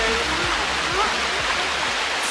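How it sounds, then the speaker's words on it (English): Steady broadband roar of Bua Tong sticky waterfall near Chiang Mai, Thailand, heard close up from the base of the falls, continuous and loud with faint low thumps beneath. "We're at the bottom of the waterfall."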